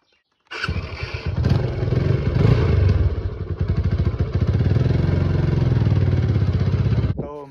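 A motorcycle engine starts abruptly and runs steadily while riding, a loud close rumble with a rapid pulsing beat that holds for about seven seconds before cutting off.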